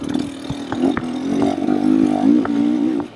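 Dirt bike engine, a KTM or Beta, running on a trail: a close, steady mid-pitched drone that rises and falls slightly with the throttle, with no talk.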